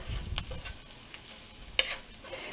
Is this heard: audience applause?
no